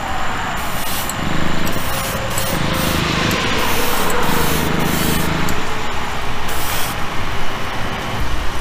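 Light coats of spray paint go onto a Chevy panel van, built as a custom Rat Fink van, producing a steady loud hiss that runs continuously with slight surges and no speech.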